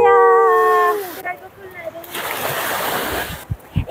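A person runs into the sea at a beach, loud churning splashes and rushing water following a sustained tonal sound at the start, with a few sharp thumps near the end.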